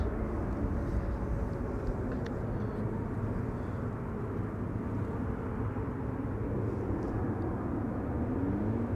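Heavy jet aircraft move on the ground at Amsterdam Schiphol Airport, a low, continuous engine rumble and distant roar holding steady throughout, moderately quiet with no nearby speech.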